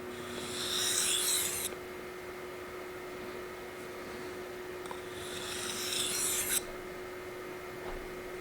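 Knife blade honed on a Shapton Glass 1000 water stone, giving two smooth, close rasping strokes separated by a quiet gap, over a low steady background hum.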